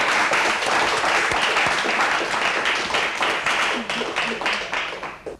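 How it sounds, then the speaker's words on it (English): An audience at a school science quiz show breaks into sustained, dense applause that tapers slightly toward the end, with a voice speaking faintly underneath. "big round of applause then for the girls"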